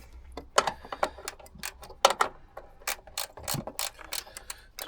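Close ratchet spanner clicks as a nut is tightened on a vehicle spotlight mount, coming in quick irregular bursts of sharp metallic ticks with brief pauses between strokes.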